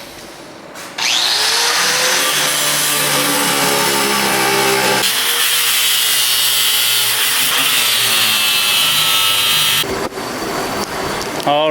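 A power tool cuts through metal tubing from a Nissan 240SX tube front kit, running loud and continuous for about nine seconds with a grinding, whining tone that shifts pitch as the blade bites, then stops abruptly.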